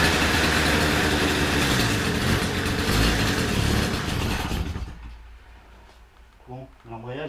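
A 1973 Motobécane moped engine idles close by, a steady low mechanical rumble that dies away midway, leaving quiet room noise and a few brief vocal sounds.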